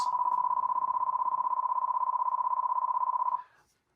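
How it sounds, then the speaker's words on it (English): A steady electronic test tone sent from Logic through the audio outputs into Pro Tools, a single pure pitch held loud and unbroken for over three seconds before cutting off. "it's going to sequentially fire a tone through every output going out of Logic and then fed directly into Pro Tools."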